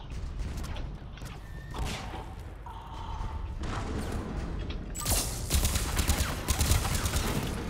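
Automatic turret gunfire in the video game Mass Effect 3, heard as a dense, continuous fusillade of rapid shots that swells louder toward the end, mixed with other game battle noise.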